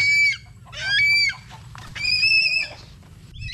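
Gamecocks cluck and squawk in several short, harsh bursts close by, with a faint steady hum in the background.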